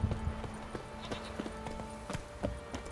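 Horse hooves clip-clopping in the video game The Witcher 3, a brisk, even run of hoofbeats at close range over a faint background.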